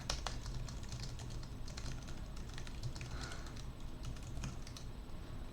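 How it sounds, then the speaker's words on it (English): Typing on a computer keyboard during an online chess game, a steady run of quiet clicky keystrokes over a low hum, with no talk. "Yeah, he just typed into chat."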